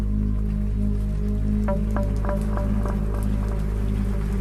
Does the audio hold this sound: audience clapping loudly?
no